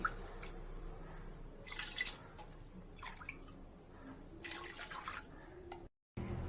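Water poured into a pot for pongal, splashing and trickling in a few separate bursts, close but soft, with no talk.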